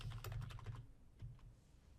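Keyboard typing as a password is entered during Windows Server 2019 Azure AD Connect administration: a quick run of close, fairly loud key clicks in the first second, then a short second burst, with no talking.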